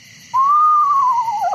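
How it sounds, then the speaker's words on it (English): A screech owl gives a loud, drawn-out tonal call that rises slightly, holds, then slides downward, sounding clear and close over a faint steady background hum. "So here's how the screech owl sounds."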